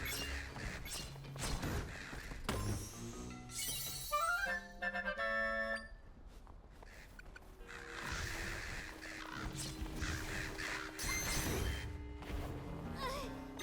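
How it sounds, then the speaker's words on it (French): Summoned crow echoes caw in the video game Zelda: Echoes of Wisdom, several short raspy calls amid chiming game effects and music, with no talk. "On va régler le problème avec quelques corbeaux."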